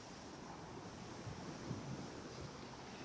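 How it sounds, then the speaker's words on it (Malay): Ocean waves washing onto the beach of an abandoned island, a steady broad surf roar with wind noise across the microphone, continuous and fairly distant with no talking. "Boleh dengar bunyi ombak memukul pantai."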